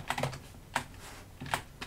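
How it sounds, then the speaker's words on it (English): Key taps on a computer keyboard while login credentials are entered, coming in a few short close bursts with pauses between them. "now if we reload and we type in our credentials"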